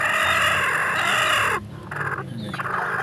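Backyard hens cluck and crow in a loud, busy chorus that drops suddenly partway through, leaving quieter scattered clucks over a rustling background.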